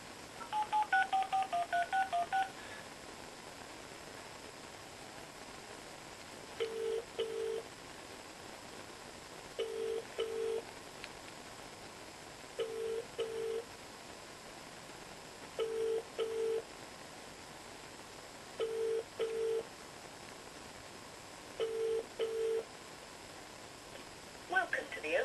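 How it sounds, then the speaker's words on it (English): An old house phone sends a quick run of dialing tones, then regular paired ringing beeps repeat every few seconds over a quiet room. "I thought I'd give Bert a call with the old house phone"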